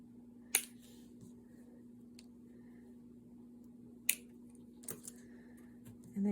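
Scissors snipping cardboard pieces in half for a pumpkin craft, a few sharp isolated cuts spaced seconds apart over a quiet background hum.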